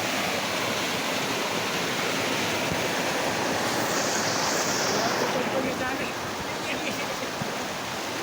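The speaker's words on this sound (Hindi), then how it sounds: "तो दोस्तों इतना खतरनाक पानी आ रहा है" Heavy floodwater rushing through a village after torrential rain, a loud, steady, broadband roar like a waterfall that continues unbroken and close throughout.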